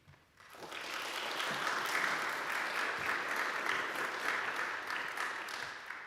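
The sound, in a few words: audience clapping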